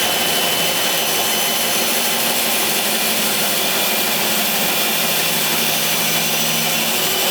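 A power tool whines loudly and continuously while slowly making a straight cut through acrylic, a steady, close, unbroken roar with no pauses.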